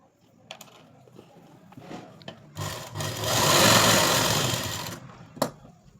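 A sewing machine stitches a katori blouse, one steady mechanical whir running about two and a half seconds, with light clicks of handling and cloth before and after.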